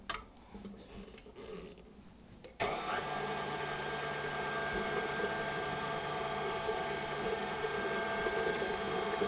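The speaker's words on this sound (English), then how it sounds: "put the salt and sugar in the mixer, and you're going to put the paddle on and you're going to add the butter in pieces" A stand mixer with a paddle attachment mixes butter, salt and sugar, its motor switching on after a quieter start. It then whirs and clatters steadily and mechanically without a break.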